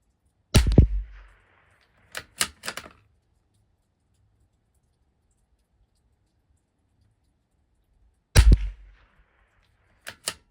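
A Savage Mark II rifle fires Eley Team ammunition outdoors. Two sharp, loud shots come about eight seconds apart, and short clicks from working the bolt follow each shot.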